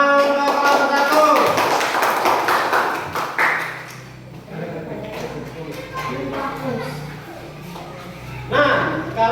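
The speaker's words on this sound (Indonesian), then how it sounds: "Tepuk tangan untuk kelompok 1" Classroom applause for a student group during a lesson, with scattered claps and taps mixed under a teacher's talking, fading after a few seconds as speech continues.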